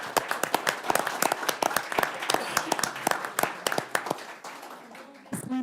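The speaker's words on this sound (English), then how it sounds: "And we also need to give parents a round of applause." Scattered, distinct claps from a modest group at a city council meeting, irregular and close, tapering off before a brief voice breaks in at the end.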